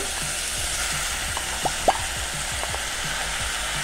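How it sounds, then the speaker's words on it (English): Pork belly sizzling as it browns in a pot for kimchi stew, a steady crackling hiss with a few soft pops and scrapes of stirring, no voices. "we're gonna take our pork belly and we're gonna brown our pork belly inside it too"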